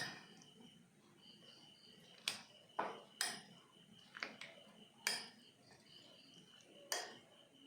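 Dried fruit and flour are stirred together in a bowl, with a quiet scraping and several sharp clinks and knocks of the utensil against the bowl at irregular intervals.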